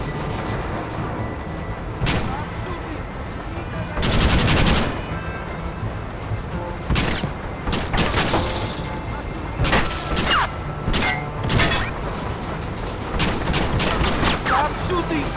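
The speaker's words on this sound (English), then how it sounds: "Stop shooting! We need that ammunition!" Gunfire in Red Dead Redemption, loud sharp bursts of shots and booms scattered irregularly over a busy background of game noise, with voices shouting among them.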